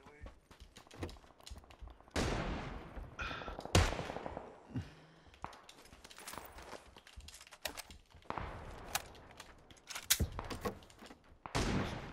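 Gunfire in a shooter video game: scattered sharp shots and short bursts at varying distances, some loud and close, mixed with softer game noise and voices talking.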